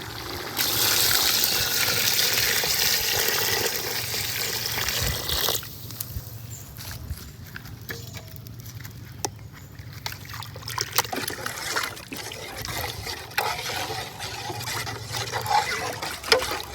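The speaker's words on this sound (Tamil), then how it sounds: "தண்ணி சேர்த்துக்கலாம்." Water pours steadily into a cooking pot for village chicken biryani with a bright rushing splash for several seconds, then gives way to quieter trickling and small clinks.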